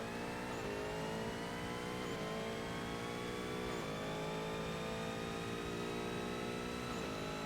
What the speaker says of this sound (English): it sounds like a flat plane V8